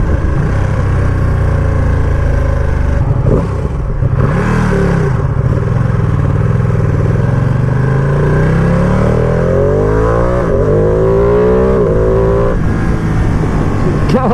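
A 2020 Ducati Panigale V2 motorcycle accelerating hard, its engine note climbing through the gears with quick-shifter changes, heard loud from the rider's position over constant wind roar.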